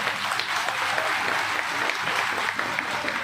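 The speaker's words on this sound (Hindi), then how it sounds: "उन बहनों के लिए जोरदार तालियां बजाओ।" A crowd claps loudly and continuously at a BJP Yuva Morcha political rally in India, a dense wash of applause with no pauses.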